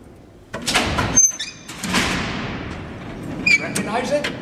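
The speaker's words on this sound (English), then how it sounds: "Listen to the sound of this door close." A heavy metal cell door at Alcatraz prison rolling shut on its mechanism, a loud clattering slide followed by sharp metallic clanks and echoing ring in the cellblock, with a voice speaking around it.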